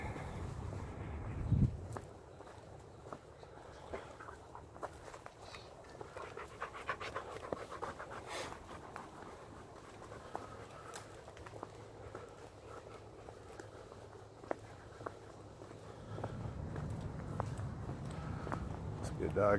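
Dog panting close by along a hilly Fourth of July cave hike with shepherd dogs, with footsteps and a person's heavy breathing underneath and a brief voice.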